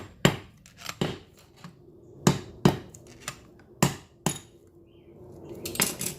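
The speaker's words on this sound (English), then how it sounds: "You hit it, light taps, crisscross pattern up on the block of wood." Light hammer taps on a block of wood, working in a crisscross pattern to drive a trailer wheel bearing race out of its hub: about eight sharp, close metallic knocks at an irregular pace with quiet gaps between them.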